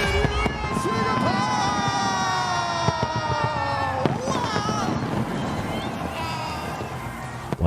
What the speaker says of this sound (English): Fireworks lit up the Marina Bay skyline as Singapore ushered in 2024.